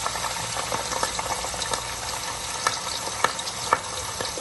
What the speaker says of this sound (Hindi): कीमा हमारा जो है फ्राई हो रहा है।